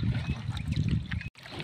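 A boat is paddled home over water after its carburetor broke. Oars or paddles make rhythmic sloshing and low water churning, and a brief gap falls near the end.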